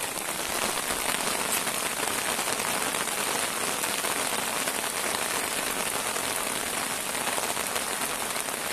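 Heavy rain pours down steadily, a dense, loud and unbroken hiss of drops striking surfaces close by, with no voices.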